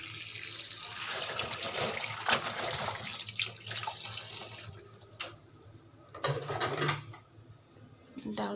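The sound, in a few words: water poured to soak lentils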